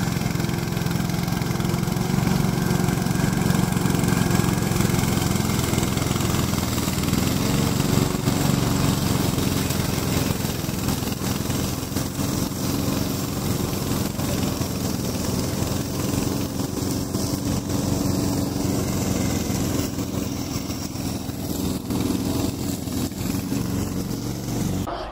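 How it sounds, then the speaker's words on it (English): A remote control brush mower's small engine runs steadily and loudly from start to finish, a constant droning hum with no speech over it. "Today I'm going to introduce our remote control lawnmower."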